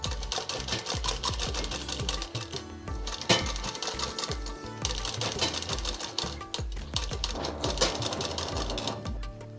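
A sewing machine stitches gathers onto the waist of a frock, running in rapid rhythmic bursts of needle clatter separated by short pauses, close and clear.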